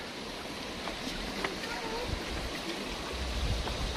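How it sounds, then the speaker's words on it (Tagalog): Steady rushing of flowing mountain spring water, loud and continuous like a close stream, with faint voices and outdoor sounds mixed into the wash. "So ito naman ay bukal, no, galing talaga sa bundok."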